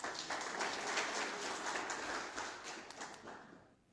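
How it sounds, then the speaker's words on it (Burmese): An audience claps in a steady, close wash of applause that holds for a few seconds and then fades out at the end. "လက်ခုပ်တီး"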